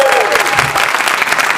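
A conference crowd at a Digitale Leute event bursts into dense, steady applause, many hands clapping together at close range for under two seconds with no pause.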